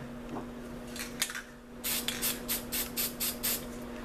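Spray can of black paint hissing in a series of short bursts, a few scattered ones and then a rapid run of quick taps, close by over a steady low hum.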